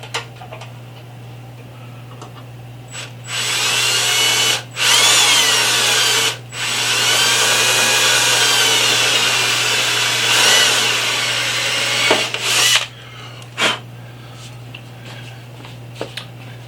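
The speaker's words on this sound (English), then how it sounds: "So I'm putting this back on so we can drill our first hole." A power drill drilling a hole on a Honda Shadow 750 motorcycle build runs in long loud whining bursts, briefly stopping and restarting several times, close by over a steady low hum.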